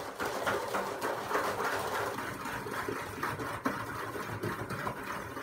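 A hand whisk beats a Moroccan biscuit mixture in a bowl with quick, rhythmic scraping strokes that repeat steadily at close range, and a voice briefly speaks.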